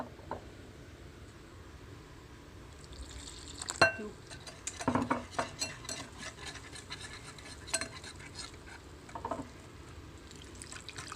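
Spoon stirring and scraping through a batter of flour and coconut milk for Tamil payatham palagaram, with irregular clinks and scrapes against the bowl at close range and no talking.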